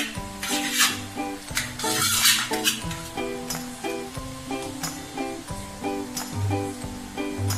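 A spoon stirring ghee in a metal pot while making chicken dum biryani, with repeated clinks and scrapes against the pan over a faint sizzle, close and steady.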